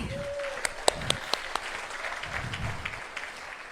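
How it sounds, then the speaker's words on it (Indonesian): Applause from a seminar audience at a marketing presentation, a few sharp close claps standing out over a softer spread of clapping in the room. "Tepuk tangan ya buat Atomy"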